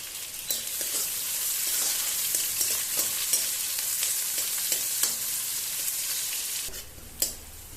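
Whole cumin and onion fry in hot oil for a Rohu fish curry, a steady close sizzle with scattered crackles and stirring scrapes that continues throughout.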